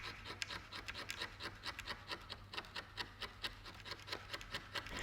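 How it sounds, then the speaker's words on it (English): A dulled scalpel blade scrapes dry glue off a surface in quick, steady, rhythmic strokes, a soft rasping repeated many times at close range with no talking. "we can actually scrape off the glue dry"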